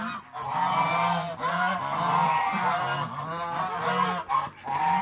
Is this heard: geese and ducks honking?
yes